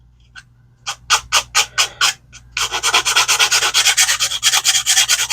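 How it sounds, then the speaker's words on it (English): Rhythmic rubbing strokes of sanding a small plastic model kit part flat, first a few separated passes, then faster continuous back-and-forth scraping, close up. "I've been sanding it flat with the back."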